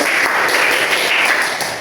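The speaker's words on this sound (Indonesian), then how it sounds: "kita beri tepuk tangan dulu" Classroom applause from students after a group presentation; a short, loud burst of close, dense clapping, tapering slightly at the end.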